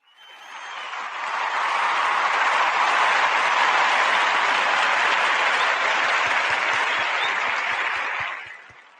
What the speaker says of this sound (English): Let me give all of you a clap right now, too.